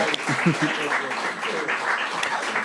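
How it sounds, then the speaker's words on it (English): Applause from the crowd at a Los Angeles poetry book launch greets the evening's three poets, a moderate, sustained patter of clapping with a few voices briefly audible at the start. "Round of applause for our three poets of the evening."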